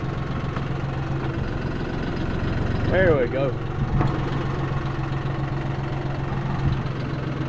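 John Deere tractor engine idling, a steady mid-low running drone throughout, with someone talking briefly over it and a short creak partway through.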